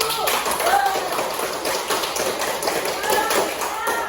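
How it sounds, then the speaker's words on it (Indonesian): Classroom applause for a presenting group, scattered tapping claps from a modest number of students, with voices and chatter mixed in throughout. "Tepuk tangan buat kelompok 1."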